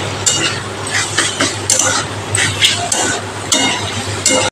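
Gami pumpkin curry stirred in a pan, with rhythmic clinks and scrapes of a spoon repeating about every half second over a steady sizzle, loud and close.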